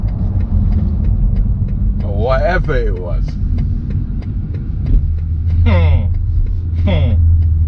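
Exhaust of a 2020 BMW X3 M40i on the road, a steady deep rumble droning underneath while someone talks over it in short bursts.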